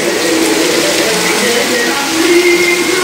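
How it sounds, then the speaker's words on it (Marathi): Dense, continuous heavy monsoon rain hiss in Guhagar, loud and unbroken throughout, with a faint tonal hum underneath. "खूप जोरात पाऊस पडतोय गोवाघरमध्ये, मुसळधार पाऊस."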